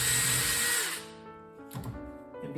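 A drill bores a rivet hole through thick metal on a Zenith CH 750 CruZer aircraft wing, starting with a harsh loud grind that drops into a whining spin-down, then briefly bites again.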